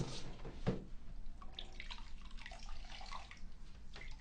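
Running water splashes steadily as a face is rinsed at a bathroom tap, with soft drips and uneven sloshing throughout, close and fairly quiet, with no talking.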